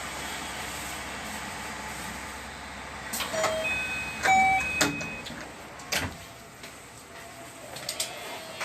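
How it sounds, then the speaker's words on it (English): A short electronic door-closing chime rings out twice on a Marine Liner rapid train at a platform, sounding moderately loud amid steady station and carriage hum, with a few clunks around it. "ドアが閉まります。"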